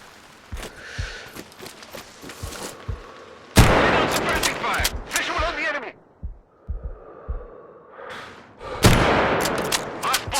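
Suppressing gunfire in the shooter game Sniper Ghost Warrior 3: loud bursts of rapid gunshots in irregular volleys, with brief gaps and sharp single cracks between them, mixed with shouted voices.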